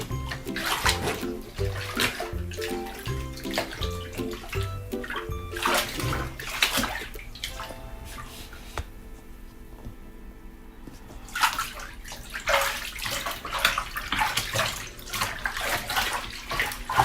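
Laundry being hand-washed in a bathtub: water sloshing, splashing and swirling as clothes are worked and lifted, in irregular bursts with a quieter stretch midway, close and moderately loud.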